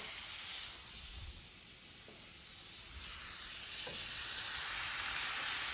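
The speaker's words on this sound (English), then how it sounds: "Hear that sizzle?" Steady close sizzling and hissing of lamb chops frying in a hot cast iron pan, a continuous crackly wash with slight swells, no talking.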